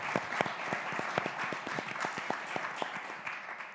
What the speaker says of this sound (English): could I have a round of applause for Bakani